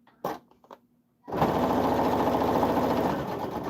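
A sewing machine free-motion quilting through batting with a continuous stitch starts after a few faint knocks and runs as a steady, loud, close mechanical whir with a rapid needle rhythm to the end.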